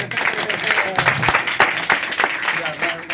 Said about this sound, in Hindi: आप पास्टर को धन्यवाद, ताली बजाएंगे उनके लिए।